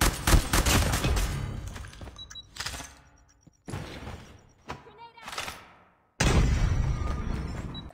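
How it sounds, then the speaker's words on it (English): Gunfire and explosive bursts from a first-person shooter video game, a dense volley at the start, then scattered loud shots and booms with short pauses and a renewed burst near the end. "Grenade"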